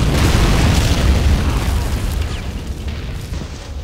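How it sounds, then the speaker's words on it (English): A TNT-like explosive charge in the Men of War: Assault Squad game goes off as a heavy, close boom, a dense roaring blast that fades slowly over several seconds. "it's like a TNT stick, only not as good, and you have to detonate it yourself"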